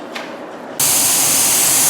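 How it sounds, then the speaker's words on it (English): After a quiet start, a spray gun spraying gel coat kicks in abruptly and blasts a loud, continuous hissing spray to the end. "So we're spraying the gel coat for the finished part."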